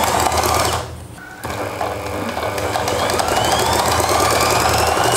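A sewing machine runs a straight seam up close, a fast steady mechanical whir that pauses briefly near the start, then resumes and continues loud and even to the end.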